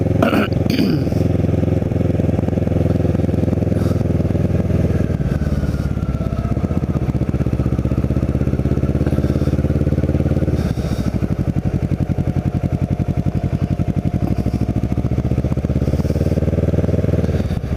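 A Kawasaki Ninja motorcycle ridden through the streets of Cape May, its engine droning steadily and loudly throughout with shifting pitch as it accelerates and eases off, plus wind rumble.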